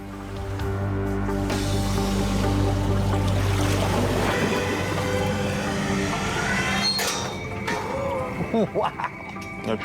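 Water rushes into an empty crate weighted with 100 kg as it sinks at the sea surface, a loud continuous churning roar of pouring, swirling water with splashing toward the end.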